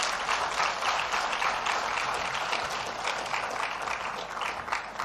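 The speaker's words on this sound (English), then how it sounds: "Let's give Baba a big round of applause again." Audience applause at the signing ceremony of the IATF host country agreement between Nigeria and Afreximbank in Lagos, a steady, dense round of clapping that holds evenly throughout with no voices over it.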